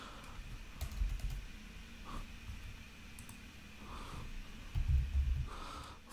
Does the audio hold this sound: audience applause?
no